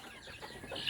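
A single farm chicken gives a short, faint cluck close by, a brief burst of clucking in a quiet outdoor yard.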